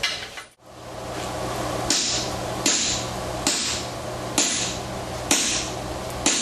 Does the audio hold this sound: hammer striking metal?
yes